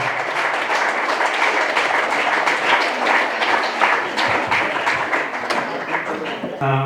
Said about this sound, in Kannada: ವೀರ ಯೋಧರಿಗೆ ಜೋರಾದ ಚಪ್ಪಾಳೆ ತಟ್ಟುವುದರ ಮೂಲಕ ಆತನಿಗೆ ಅಭಿನಂದಿಸೋಣ